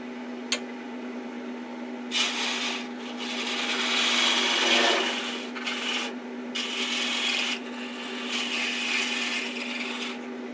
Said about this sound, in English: And what I will do with this is just with my scraper,